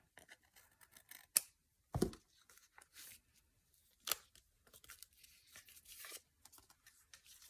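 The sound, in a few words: scissors trimming an envelope pocket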